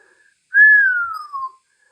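A person whistles one clear, sustained note that slowly glides downward over about a second, alone in near silence.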